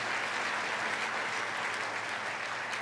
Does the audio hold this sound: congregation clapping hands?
yes